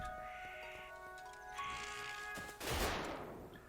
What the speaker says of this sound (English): gotta take care of this stupid machine gun turret